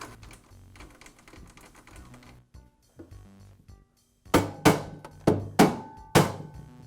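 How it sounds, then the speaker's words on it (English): A DeWalt planer's adjustment handle is turned on the threaded rod to lower the cutter head: soft clicking and rattling at first, then a series of loud sharp metallic clunks, about six in close succession. "I'll temporarily place the adjustment handle over the threaded rod on one side and begin to rotate it down."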